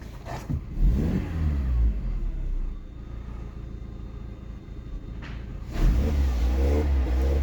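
A 2000 Skoda Octavia engine turns over and settles into a steady low idle, with brief revs at the start and again near the end, no voices.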